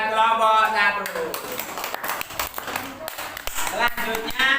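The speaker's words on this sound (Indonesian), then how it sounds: "Beri tepuk tangan buat kelompok 1." Classroom applause for a student group during a teaching practice lesson, a few seconds of clapping mixed with voices, moderately loud and close, with talk over and between the claps.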